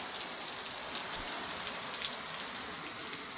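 Heavy rain falls steadily outdoors in windy weather, a dense continuous hiss of drops on surfaces with a brief louder splash partway through and no one speaking.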